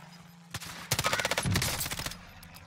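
Rapid automatic gunfire in the video game Call of Duty Warzone, a dense burst of quick repeated shots lasting over a second, fairly quiet in the mix after a few scattered opening shots.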